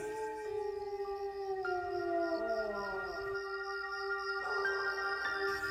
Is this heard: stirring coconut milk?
no